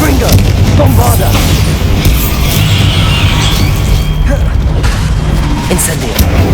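Confringo and Bombarda spell blasts in the video game Hogwarts Legacy, heavy booming explosions and crashing impacts piling up continuously at high volume, with a dense low rumble throughout.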